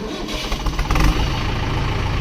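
A 575 model tractor engine cranks and catches, rising into a loud, close, throbbing diesel idle that settles into a steady, even rumble.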